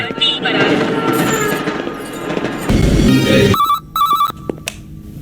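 An electronic phone ring chirps in short repeated bursts after a stretch of loud background commotion and voices.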